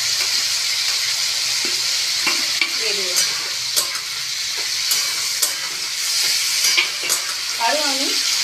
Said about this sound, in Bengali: আরও আমি 3-4 মিনিট একটু ভালো করে নেড়ে চেড়ে নেবো